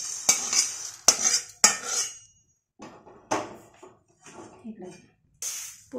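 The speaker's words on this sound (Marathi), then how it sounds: "आता शाबू भाजून घ्यायचा" Sago pearls dry-roasting in a pan for chakli, with sharp metal scrapes and clinks of a spatula against the pan in bursts, broken by quieter stretches of rustling grain.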